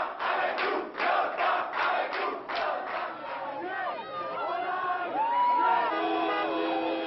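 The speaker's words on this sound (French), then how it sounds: "dernier bain de foule et dernière ovation pour Lionel Jospin" A large crowd roars and cheers in an ovation for Lionel Jospin at the Socialist Party headquarters on rue de Solferino, with rhythmic chanting bursts at first that give way to sustained shouting and whooping voices.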